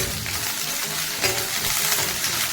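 Steady, dense sizzling of chopped onions frying in hot oil with curry leaves, close up and continuous, with no voices.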